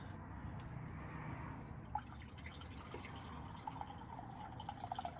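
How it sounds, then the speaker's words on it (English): Water drains through small lid holes from an instant yakisoba cup in a faint trickle, with scattered small drips falling close by in a quiet room. "It has these little holes on top, and that is how you drain it."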